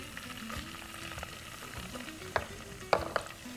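Curry leaves, mint and coriander sizzling and frying in a hot pan while being stirred, a steady crackle broken by a few sharp spoon clatters against the pan, no voices.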